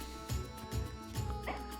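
Cartoonish dog yelps and whimpers from a dog character taking heavy hits in the tactics video game Fae Tactics, four short pained cries in a steady rhythm over a continuous game music bed.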